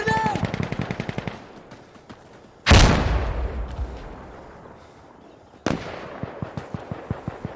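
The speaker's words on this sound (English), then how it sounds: "I'm throwing a grenade!" A grenade thrown and exploding in the game Insurgency Sandstorm, with a loud blast booming and decaying, then a second burst, amid rapid machine-gun fire before and after.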